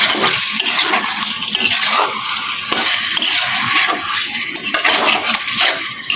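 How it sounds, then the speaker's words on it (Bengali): Chicken frying in a pan with turmeric and spices is stirred continuously, with a steady close-up sizzle broken by scraping spatula strokes against the pan, without any voices. "এগুলোকে ভালো করে মিশিয়ে নিচ্ছি।"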